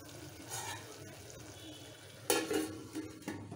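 Amaranth leaves frying in a pan and being stirred: a soft, steady sizzle under scattered scrapes and clinks of a spatula, louder toward the end.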